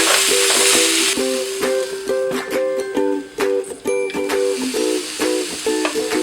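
Mussels hiss and sizzle as they hit hot olive oil in a pan for steamed beer mussels, a loud steady sizzle over the first second, then softer frying with repeated sharp clinks of shells against the pan.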